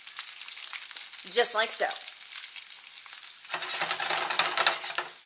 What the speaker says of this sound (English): Now that our pan is nice and hot, we'll add our noodle. We should hear a loud pch sound when we put it in.